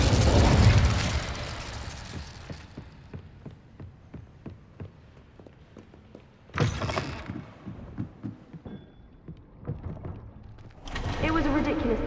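An Incendio fire spell cast in Hogwarts Legacy: a sharp fiery burst at the start fading into crackling pops, with later whooshing flares, fairly loud against quieter game ambience and some talk.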